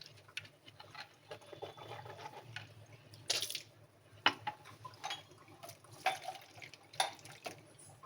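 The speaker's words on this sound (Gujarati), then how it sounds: "સરસ બે પાણીથી દાળ ધોઈ લીધી છે" Lentils for dahi vada are rinsed by hand in a pot of water, giving soft, irregular sloshes, drips and a few sharper splashes and clinks against the vessel, fairly quiet and close, with no speech.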